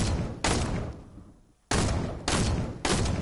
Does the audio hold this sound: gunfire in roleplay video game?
yes